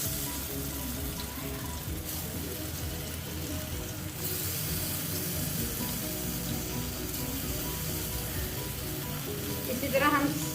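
Potato slices sizzle in a little oil in a pan, a constant crackling hiss that stays steady throughout, with faint clinks near the end.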